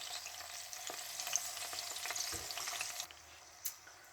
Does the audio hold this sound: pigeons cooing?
no